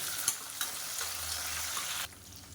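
Garlic, onion and slit green chillies fry in hot oil for a Madurai-style radish and drumstick tamarind curry, giving a steady loud sizzle with a few stirring scrapes before it drops away abruptly near the end.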